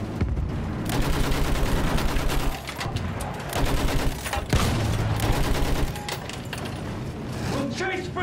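Sustained machine gun fire in the Battlefield 1 video game, rapid loud bursts across a World War I trench battle, with shouting voices mixed into the noise.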